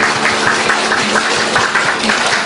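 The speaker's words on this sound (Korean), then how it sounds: "이 시간 사랑의 하나님께 영광의 박수 올려드리겠습니다" A congregation claps during a Korean church worship service, a dense, loud and continuous wash of hands with faint rhythmic pulses running through it.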